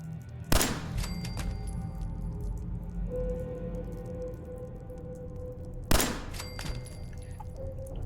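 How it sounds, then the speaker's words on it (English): Two sharp gunshots from a Fallout 4 rifle, fired at long range, crack out several seconds apart, each one loud and followed by a short echoing tail over quiet ambient hum. "Just shooting a few at long range there just to practice."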